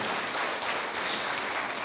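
A church congregation claps loudly and steadily during a worship service, a dense continuous wash of applause with no talk.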